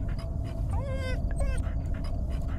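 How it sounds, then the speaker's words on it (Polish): In the horror video game Fears To Fathom: Carson House, a dog whimpers in two short, rising whines over steady panting, set against a noisy ambient background. "Co to jest, pies?"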